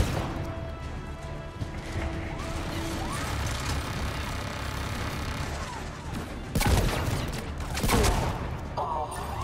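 A turret fires rapid, dense gunfire in a video game, a loud sustained barrage layered with game noise, with two sharp crashing blasts near the end.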